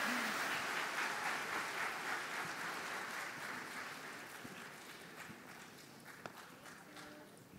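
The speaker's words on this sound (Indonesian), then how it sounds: "Boleh tepuk tangan buat temennya biar semangat." Applause for a university choir at a conference opening ceremony, thick clapping from a crowd that starts full and gradually tapers off, with some murmuring voices toward the end.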